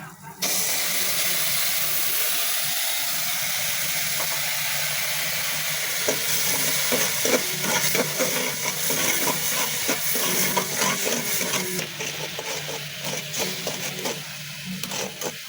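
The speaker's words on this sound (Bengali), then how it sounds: "আমি চিনিটাকে ক্যারামেলের কালার আসা পর্যন্ত জাল করতে নেব" Sugar and a little water cooking toward caramel in a pan hiss and bubble steadily at close range, a broad loud seething with faint crackling that grows busier over time.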